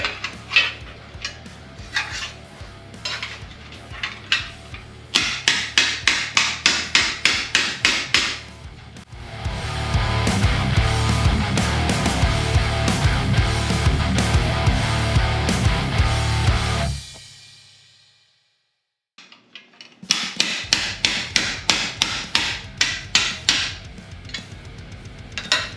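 A metal flange is hammered after bead-roller bending, with bursts of rapid, ringing metallic blows in steady rhythm, a long stretch of heavier continuous clattering, a brief silence, then more quick hammer strikes.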